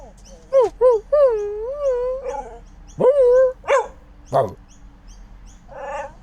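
A dog barks and lets out drawn-out, wavering howls and whines in a loud, close series of calls, with short pauses between them.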